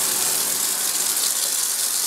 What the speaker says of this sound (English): First, let me turn on the aspirator.